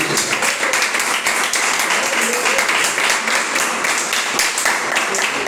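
A church congregation claps together in sustained applause, dense rapid clapping filling the space at a steady loud level from start to finish.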